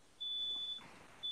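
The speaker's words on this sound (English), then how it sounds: "you guys hear a beeping sound right now?" Kitchen timer beeping to signal food is done, a steady high electronic tone that sounds, stops briefly and resumes, heard indoors during a Madden 19 gaming session.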